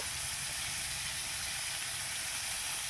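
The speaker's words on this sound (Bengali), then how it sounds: "এবার আমি ফুলকপি আর আলুটাকে একসাথে ভেজে নিচ্ছি" Cauliflower and potatoes frying together in a pan give off a faint, steady hiss of sizzling oil, even and unbroken, heard alone at low level.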